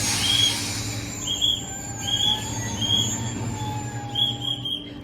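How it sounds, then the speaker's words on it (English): A regional passenger train in Romania, bound for Bucharest, rolls and squeals as its locomotive couples on. Repeated high metallic wheel squeals ring out over a steady low rumble, fairly close and with no voices. "Our locomotive has now attached itself to a different train, a regional train heading back to Bucharest."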